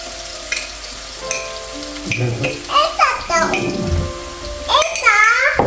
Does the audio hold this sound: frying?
yes